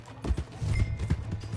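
Horse hooves clip-clop in a quick, uneven rhythm in Red Dead Redemption 2, close and fairly loud, with a little game voice beneath them.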